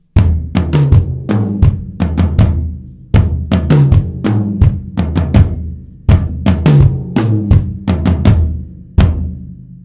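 A steady drum-kit tom groove on bass drum and floor tom, with an extra floor tom eighth note added: close, punchy low hits in a repeating pattern, played alone without talking.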